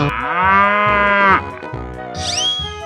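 A long, loud cow moo from a 3D animal slide game swells and drops off, then a bright rising chime plays, all over a steady thumping game music loop.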